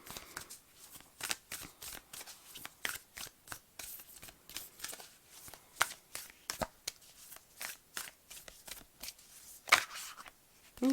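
Tarot cards being shuffled for a manifestation card reading: a rapid run of crisp riffling slaps and flutters, close and fairly quiet, with a few sharper snaps and no speech over it.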